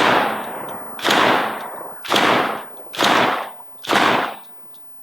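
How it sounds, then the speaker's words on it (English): DDI 12ga Puma bullpup shotgun fired outdoors, five loud booming shots in steady succession about a second apart, each with a fading tail, close to the listener and without talk. "we will shoot it and see for sure"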